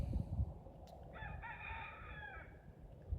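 An older rooster kept as a bait bird crows once from a distance in the open, a single drawn-out cock-a-doodle-doo rising over faint background noise, with no talking.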